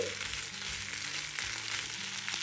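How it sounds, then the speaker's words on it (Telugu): Boiled potato pieces frying with masala, salt and chilli powder in a pan, giving a steady, moderate sizzle with faint stirring scrapes and no talk. "4 నిమిషాల పాటు ఈ బంగాళదుంపని ఇలా తిప్పుకుంటూ వేయించుకుంటే"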